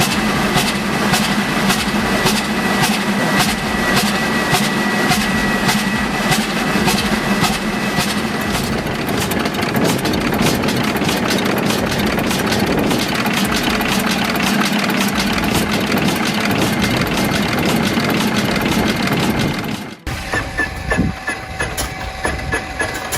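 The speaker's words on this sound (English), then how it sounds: "The Duvant motor, a 16L four-cylinder diesel from the early 20th century, delivers 120 HP." An early 20th-century Duvant 16L four-cylinder diesel rated at 120 HP runs steadily, a loud, dense rhythmic chugging with metallic clatter that holds for about twenty seconds before dropping into a lighter, rougher idle.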